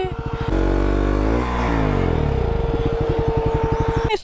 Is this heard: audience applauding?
no